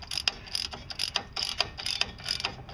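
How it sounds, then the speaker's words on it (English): Ratchet clicking in quick repeated bursts while tightening the wheel hub bolts on a 1998-2005 Chevy/GM Blazer, Jimmy or Bravada during a front wheel bearing replacement, close and moderately loud with no talk. "Go ahead and get your new hub on and start tightening up the bolts."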